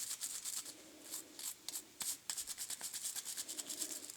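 A scrubber works into the corners of an Ibanez Edge guitar tremolo with light pressure, making quick, rhythmic scratchy strokes close up.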